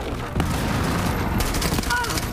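Rapid gunfire bursts crackle in the mobile shooter game Rainbow Six Mobile, several sharp close shots in quick succession layered with game effects and a voice speaking over them.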